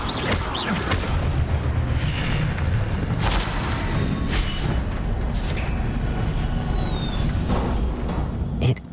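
A fire spell cast in the Hogwarts Legacy game gives a loud, dense roaring burst that fills the whole stretch, rumbling low and steady with crackling bright streaks, and a faint voice sounds briefly over it.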